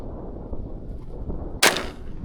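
One sharp report from a .410 shotgun fired while hunting pigeons, a brief crack heard over outdoor background noise, with no talking.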